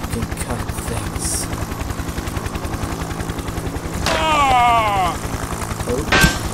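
Helicopter rotor chopping steadily in a video game, its rhythmic thump running throughout alongside bursts of gunfire, with a louder rising whine near the end.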